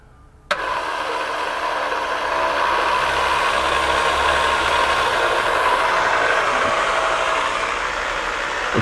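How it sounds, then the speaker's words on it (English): A car engine cranks slowly and laboriously on its starter motor, a steady grinding drone that starts abruptly and holds without catching, close and loud, with no talk over it. "It's winding over very slow. Just wind her over for us."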